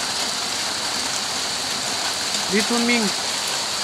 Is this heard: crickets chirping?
no